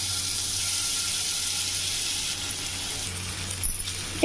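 Paneer fries in ghee in a pan, producing a steady, close hiss of sizzling that holds evenly throughout, with a few faint clinks near the end.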